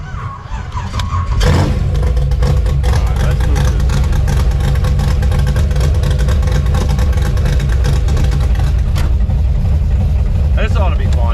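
A 1956 Chevy gasser race car engine runs loud and close, a dense rumbling drone that holds steady for the whole stretch while people talk over it.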